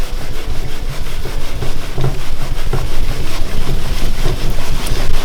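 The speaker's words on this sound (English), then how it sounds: "we're going to take tissue and I'll start buffing this off a little bit" Tissue rubs polish off a sword blade in quick, continuous scrubbing strokes, close and fairly loud, with no speech.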